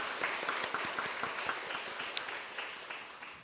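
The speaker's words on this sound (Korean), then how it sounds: "우리 박수 한번 해주시면 감사하겠습니다" Church congregation applauding during a Sunday worship service in Korea, a steady moderate wash of many hands clapping for a few seconds, fairly even and somewhat distant, with no one speaking over it.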